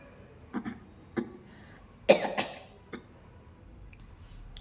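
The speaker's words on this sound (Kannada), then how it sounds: "ಈ ಹೊಗೆ ಬಂದಾಗಲೂ ಸಹ ಶುರು ಆಗ್ಬಿಡುತ್ತೆ ನನ್ನ ಕೆಮ್ಮುವುದೆಲ್ಲ" A person's dry coughs set off by smoke come in about five separate bursts, one sharper and louder in the middle, close to the microphone in an otherwise quiet room.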